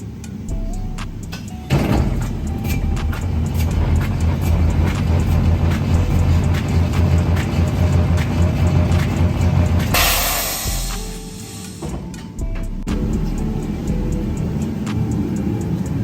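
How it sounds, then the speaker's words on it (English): A road force wheel balancer spins a 37-inch Toyo mud-terrain tire for a Ford F250, giving a steady mechanical drone that runs for several seconds, cuts out with a brief hiss, then starts up again. "Now we're getting the road force balance going."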